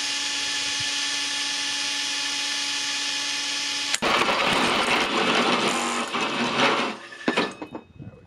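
A power drill works on tractor lift arm stabilizer mounts, first with a steady high motor whine, then a harsh, louder grinding as the bit bites into metal before tapering off.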